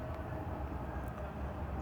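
Trains pass at midday, a low continuous rumble of rolling railcars heard at a moderate distance, steady and fairly faint throughout.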